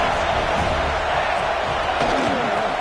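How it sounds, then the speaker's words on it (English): A large football stadium crowd cheers and roars as a steady, dense wall of noise at an Arkansas at Florida State game, with no clear individual voices rising above it. "This crowd knows when to bring it."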